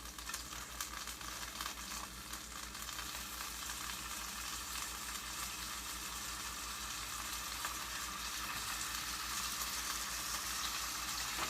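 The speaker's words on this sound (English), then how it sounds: "I take 2 pieces of thick cut bacon, tear them up into 4 smaller pieces. I'm going to go ahead and drop them in there." Thick cut bacon, torn into smaller pieces, frying in a pan with a steady, dense sizzle that stays even and continuous, no voices present.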